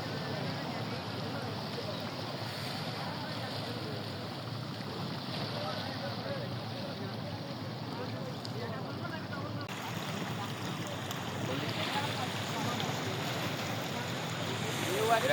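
Sea waves roll onto Kuakata beach in a continuous, even rush of surf, mixed with wind buffeting the microphone and growing slightly louder toward the end.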